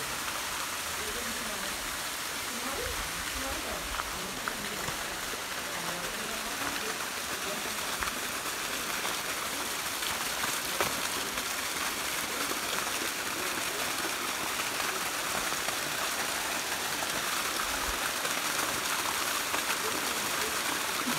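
A steady rushing of water, like a strong stream or cascade in a jungle, constant broadband roar with a faint voice or two underneath.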